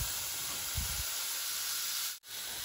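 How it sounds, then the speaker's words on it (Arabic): Mushrooms sauté in a pan with a steady, even hiss of sizzling, with a brief dropout near the end. "انا عندي اول مشروم اتشوح زي ما حضراتكم شايفين"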